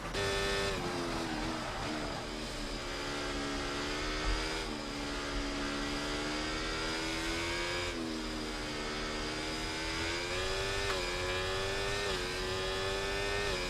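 Formula 1 car engine in the F1 24 racing game at Spa, a sustained high-pitched whine with rising and falling pitch as the car accelerates through gears, loud and continuous with no talk.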